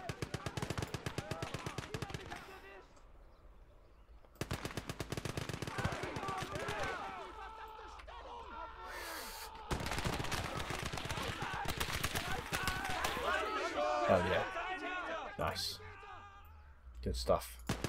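Machine gun fire in the WWII strategy game Gates of Hell, Airborne DLC: rapid bursts of rattling automatic shots in several long volleys separated by short pauses, mixed with distant battle noise and a voice talking over it.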